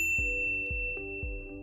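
A notification bell dings several times in a steady rhythm, each strike bright and clear with a short ringing tail over a low steady hum.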